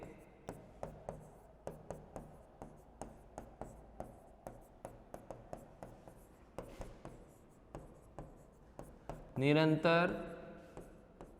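Chalk or marker writing on a board during a physical chemistry lesson on gases, a steady run of short tapping strokes close by, with a teacher talking briefly near the end.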